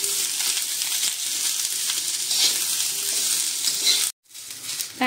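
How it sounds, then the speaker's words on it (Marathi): Onion roasts in a little oil on a hot tawa with a continuous close sizzle and faint stirring scrapes. The sizzle cuts out abruptly near the end and then returns. "आता हा मी कांदा भाजून घेते।"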